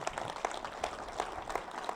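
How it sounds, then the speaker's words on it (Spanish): Steady rhythmic clapping from a church congregation, beats evenly spaced about every third of a second, under a diffuse murmur of the crowd. "Dale palmas a Jesús."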